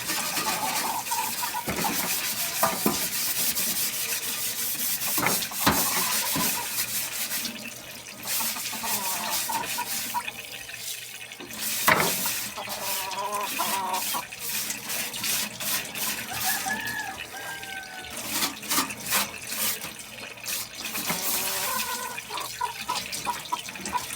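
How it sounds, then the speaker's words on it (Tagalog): Tap water runs steadily into a kitchen sink during washing, a continuous splashing rush with small clatters and knocks of dishes and basin throughout, close and fairly loud, with no talking. "Hugasan natin yung lababo namin guys."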